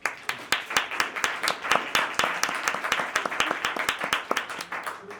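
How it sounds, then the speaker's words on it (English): A small business event audience claps for a guest being introduced: a modest group of distinct, fairly quick hand claps at moderate volume, steady throughout with no voices on top. "Round of applause."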